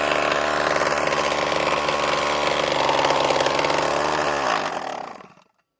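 A RedMax weed eater that sat unused for years runs at full throttle with the choke on, giving a loud, steady buzzing roar that holds, then winds down and cuts out near the end.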